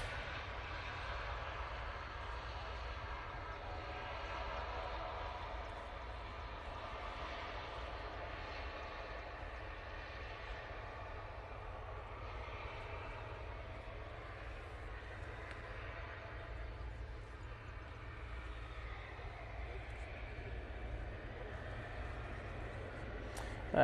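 A Ryanair plane arriving from Belfast at Manchester Airport drones as a steady, distant engine roar throughout, faint and even, with a brief louder burst at the very end.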